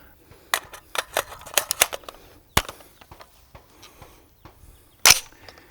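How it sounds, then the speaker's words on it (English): Suppressed rifle fire from a binary trigger through a SilencerCo hybrid suppressor: sharp close cracks come in quick pairs and clusters, then a few isolated shots spaced seconds apart, with one loud final report and mechanical clicks between. "So I can run that binary trigger real well with this suppressor."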